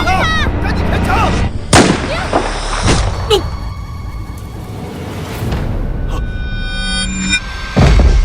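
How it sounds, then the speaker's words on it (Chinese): Gunfire during a staged bank robbery drama scene: several sharp, loud shots and thuds spaced irregularly over a dense, noisy soundtrack, with voices mixed in. "赶紧开枪！"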